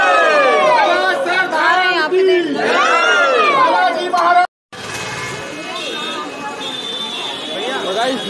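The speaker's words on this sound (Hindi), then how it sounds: "ये है बाबा के दरबार की भीड़, जो दर्शन करके आ रहे हैं" Dense crowd of devotees at Salasar Balaji temple in Rajasthan, many voices chattering and calling out at once, loud and close, with a brief silent break before the hubbub resumes alongside a faint ringing tone.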